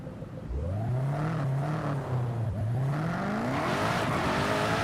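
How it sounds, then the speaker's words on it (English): A car engine in Forza Horizon 5 hums and revs with a steady, loud, gliding tone that rises and falls, fitted with an 8-speed transmission, heard alone without talk. "I really like the idle sound."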